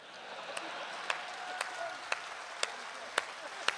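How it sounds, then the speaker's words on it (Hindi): A handful of audience members clapping at a comedy poetry show, sparse evenly spaced claps over a quiet murmuring room, thin and faint rather than full applause. "2-3 लोग ताली बजा रहे हैं"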